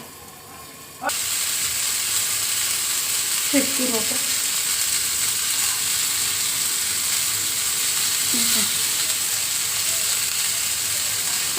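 Pomfret fish fries in a pan with a loud, steady hiss and sizzle that starts abruptly after a quiet second. A couple of brief clatters from handling break in, heard close and alone.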